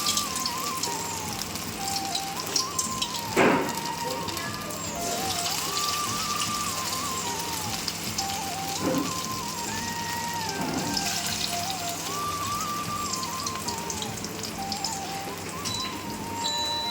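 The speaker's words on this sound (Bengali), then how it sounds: "লাল লাল করে একটু ভেজে নেওয়া হলো" Cornflour-and-flour battered food deep-frying in hot oil, a steady dense crackle and hiss like rain on a surface, with a few brief louder pops and clinks along the way, no one talking.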